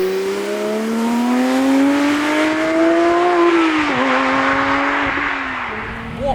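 A Porsche 991 Speedster's engine revs hard while driving, a loud, continuous rising howl that climbs steadily, dips at a gear change and climbs again, close and with no talk.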